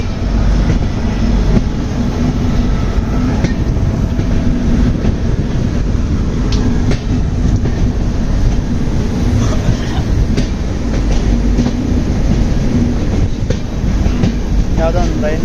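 A Vistadome train running from Bengaluru toward Kukke, a loud continuous rumble of wheels on rail with steady clatter and a few faint squeals, heard from on board throughout.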